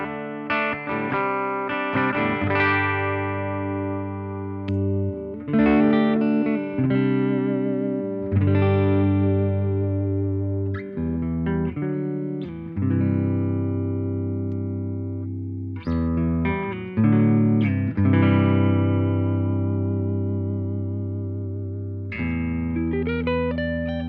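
Clean electric guitar played through a Laney Lionheart Foundry Super60-112 amp with the bright switch off, sustained chords and picked notes ringing in repeated phrases, loud, close and steady with no talking.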